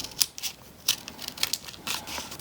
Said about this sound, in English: I'm going to shape it a little bit by cutting off the corners